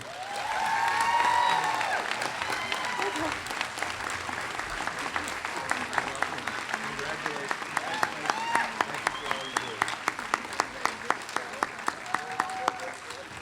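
A crowd at an education awards ceremony claps steadily, a broad wash of applause that swells early and continues with some sharper individual claps, with voices faintly heard underneath.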